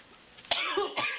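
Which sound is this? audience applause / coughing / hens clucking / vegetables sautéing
coughing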